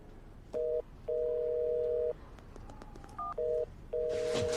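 Telephone keypad tones beep in short and longer bursts, several distinct dialing tones in sequence with brief gaps, quiet background, ending in a rush of noise.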